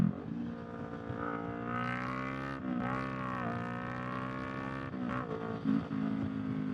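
A 2018 Kawasaki Vulcan S 650 motorcycle accelerates hard from a standstill toward 60 mph, its engine note climbing steadily through the gears with brief dips at each shift, loud and close with no talking.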